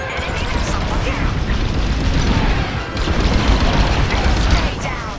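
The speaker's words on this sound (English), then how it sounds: "Enemy missile, look out!" An enemy missile explodes during a Star Wars: Squadrons space dogfight, a dense roaring blast and crash that fills the moment, loud and sustained with rumbling swells.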